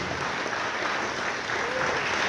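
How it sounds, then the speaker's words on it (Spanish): A crowd claps for honoured families at a church Passion of Christ event in Minnesota, producing a dense, even wash of applause throughout with no talking. "Ese aplauso es para ustedes"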